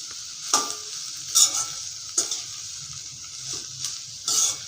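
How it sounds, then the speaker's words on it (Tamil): Onions are sautéed in a pan for a dry fish thokku. A soft, steady sizzle runs throughout, broken by about six sharp stirring scrapes spaced at roughly even intervals. "இந்த வெங்காயம் வந்து நல்லா வதங்கணும்."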